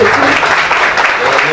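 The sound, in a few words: congregation applause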